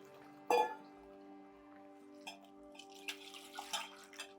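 Dissolved tamarind water is poured into a pot of sambar with drumstick, mango and brinjal, making faint liquid splashes and trickles after a single sharp knock, quiet and close with no talking.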